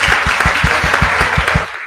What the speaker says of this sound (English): A round of applause as well for this